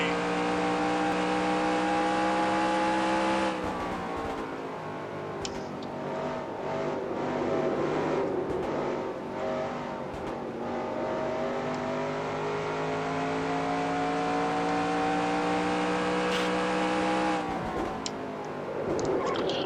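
Race cars pulling away in NASCAR Racing 2003, a chorus of engines revving and droning together, rising in pitch and holding steady with gear shifts, loud and continuous without talk.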